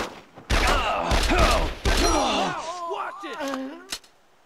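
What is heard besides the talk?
gunfire in the video game Brothers in Arms D-Day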